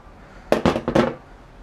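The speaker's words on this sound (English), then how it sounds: "Now all we need to do is eject the mag, and we can still shoot." Tiberius T8.1 paintball marker firing on HPA air after the magazine is ejected, three quick sharp pops in close succession, near and loud, with no talk.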